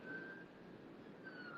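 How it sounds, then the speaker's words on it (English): A distant ambulance siren wails faintly through low traffic rumble, its tone rising and falling far off. "That was an ambulance, not a fire truck this time."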